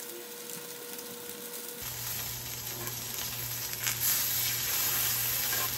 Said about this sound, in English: I have a screaming hot pan. I'm gonna put my halibut fillets in there